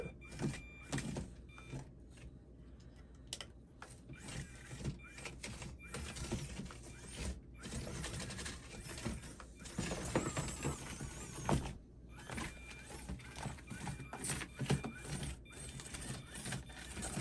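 An HBX Devastator RC car driving around, giving off a whirring, whining electric motor sound that rises and falls with bursts of speed, fairly close and with no voices.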